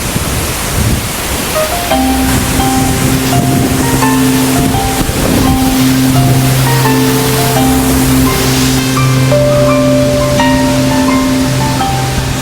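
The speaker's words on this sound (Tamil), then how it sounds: "அந்த அருவியோட வேகத்தை பார்த்தீங்களா?" A powerful waterfall in North Bali roars with a steady, dense rush of falling water throughout, while background music with sustained tones plays over it.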